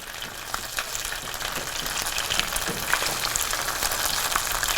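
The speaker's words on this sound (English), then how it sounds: "We're gonna just keep on frying them until they get a dark brown on the edges, a little crispy edge." Food frying steadily in a home kitchen pan, a continuous close crackling sizzle with scattered sharper pops throughout, no talk.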